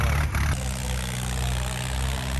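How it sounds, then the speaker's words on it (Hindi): A tractor engine idling at a tractor fair in Mirpur, Azad Kashmir, a loud, continuous low rumble close by with a steady throb and a brief change in tone near the start. "हाँ ये ट्रैक्टर"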